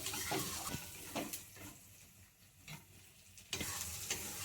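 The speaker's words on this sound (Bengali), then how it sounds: "এবার একটু নেড়ে দিচ্ছি" Spice paste for a mustard-poppy seed rohu fish curry fries in oil while being stirred, with soft uneven scraping strokes over a low, faint sizzle.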